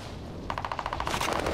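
Rapid automatic gunfire from Call of Duty: Modern Warfare, a steady burst of about a dozen evenly spaced shots starting partway in, close and fairly loud with no talking.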